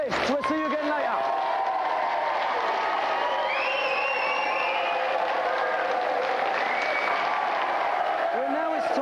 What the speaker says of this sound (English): let's have a big round of applause for our two finalists